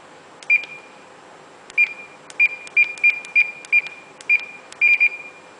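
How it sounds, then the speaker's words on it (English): Ship bridge speed alarm sounds a series of short, sharp electronic beeps in an irregular rhythm, some paired, clear and close over a faint background hum. "This alarm sounds when ship speed is lower or higher than"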